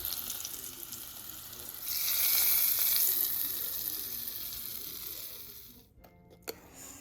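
Spices crackle and sizzle in hot oil while tempering, with asafoetida, swelling louder partway through, then fading, with a small clink near the end.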